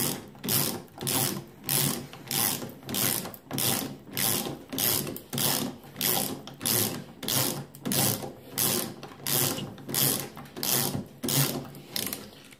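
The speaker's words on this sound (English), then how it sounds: "that was all about this multifunction ratchet tool and the 8-in-1 ratchet wrench" Parkside 8-in-1 multifunction ratchet wrench clicking in a steady back-and-forth rhythm, about two strokes per second. Each swing gives a close, crisp burst of pawl ticks with short pauses between, and no voices.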